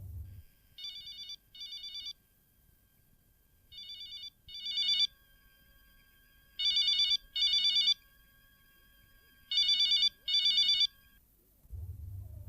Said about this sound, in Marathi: मी काय करू? शालनला फोन करू का?